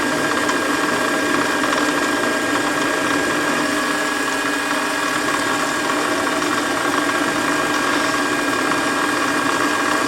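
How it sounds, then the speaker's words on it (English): A Warco lathe drills a part for a shop-made quick-change tool post, giving a steady, even mechanical whirring drone with no pauses or talk. "why am I drilling this in the lathe when I could do it in the pillar drill?"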